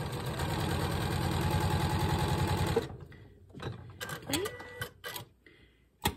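Sewing machine running a quarter-inch seam along quilt binding, a loud, steady rapid stitching drone for nearly three seconds that stops, followed by scattered clicks and handling of fabric.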